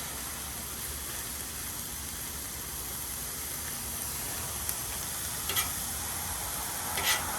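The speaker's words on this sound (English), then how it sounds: "Let's just get these vegetables cooking." Vegetables cut small and spread out on a roomy griddle fry with a steady, soft sizzle, a few light scrapes and ticks rising near the end, with no voices.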